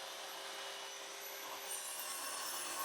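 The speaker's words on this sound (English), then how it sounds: "I took some scraps of 18mm plywood and cut it down to size on my brand spanking new miter" A new miter saw cuts 18mm plywood scraps in a workshop, giving a loud, continuous, bright whine with steady hissing throughout.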